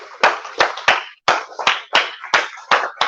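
A group claps hands in unison following a leader's rhythm, about ten crisp, closely spaced claps with a brief pause partway through, near and clear.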